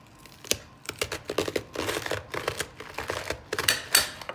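Half a cabbage is chopped with a knife, giving rapid, crisp crunching cuts in an irregular series of sharp, close clicks and crackles.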